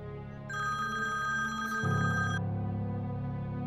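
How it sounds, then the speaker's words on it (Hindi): A mobile phone ringtone plays a steady electronic tone, then drops to a lower, fuller melodic pattern partway through. The sound is clear and fairly close, with no talking over it. "फोन आ रहा है, उठा लो, बात कर लो उससे।"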